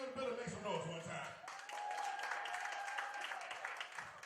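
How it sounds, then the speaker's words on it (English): An audience at a comedy show in Portsmouth, Virginia claps and cheers in a sustained burst, with a performer's voice loud over the crowd at the start. "Clap it up one time."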